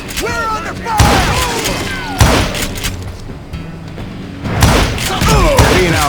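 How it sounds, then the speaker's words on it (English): Gunfire in the Call of Juarez: Gunslinger video game: several heavy, booming shots and thuds, each hitting loudly at irregular intervals over a steady background din. "Who's shooting at us? We're under fire!"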